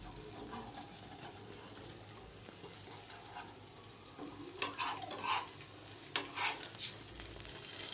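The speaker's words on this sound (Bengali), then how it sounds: "আমাদের অমলেট প্রায় হয়ে এসছে বন্ধুরা" Egg omelette frying in a pan: a faint, steady sizzle with soft crackles and a few scraping stirs, heard close and alone.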